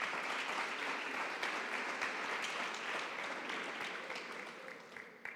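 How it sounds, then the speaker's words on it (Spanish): A crowd applauds at a municipal sports recognition ceremony held by the Onda town council in 2026, giving steady, dense clapping that fills the whole stretch and eases off slightly toward the end. "Un fuerte aplauso para él."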